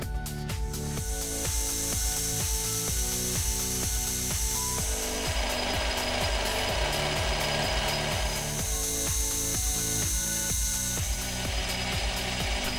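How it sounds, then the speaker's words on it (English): A drill working on a clock part to open its central hole, a steady grinding whir with a fast repeating rhythmic chatter running throughout, close and fairly loud with no talk. "The part was then reversed to drill out the central hole."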